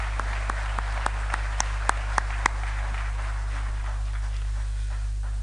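Scattered audience claps ring out at an Asturian tonada singing contest, a handful of distinct hand claps at first that thin out, over a steady electrical hum.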